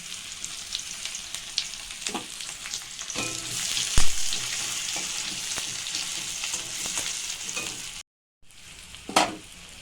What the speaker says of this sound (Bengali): এবার এর মধ্যে পেঁয়াজ দিয়ে দিলাম।